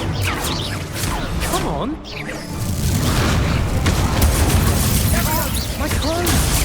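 Incendio fire spells are cast in Hogwarts Legacy, giving loud booming bursts and crackling whooshes over dense, layered game combat noise, with a brief spoken voice.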